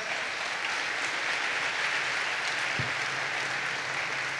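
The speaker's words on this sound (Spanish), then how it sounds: "Denle un fuerte aplauso a él." Steady, dense applause from a church congregation honouring the Lord, sustained and even throughout, with no speech over it.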